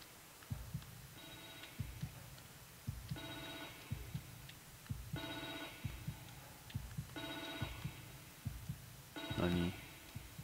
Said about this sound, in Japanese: 電話鳴ってる。